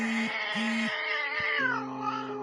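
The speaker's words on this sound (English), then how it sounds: "posted TikToks of cats sounding in distress calls" Several cats give drawn-out distressed meows and yowls, one after another in short bursts, loud and close, with no talk.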